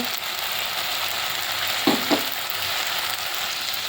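Ground turmeric, chilli, cumin and coriander frying in oil for a fish curry, a steady close sizzle with two quick scraping knocks of a utensil near the middle, no voices.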